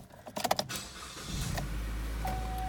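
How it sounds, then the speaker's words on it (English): A 2016 Chevrolet Cruze Limited 1LT sedan starts up with a few clicks and a quick crank, then settles into a steady low idle with a faint electronic tone. "Start the car up, show you the exact miles."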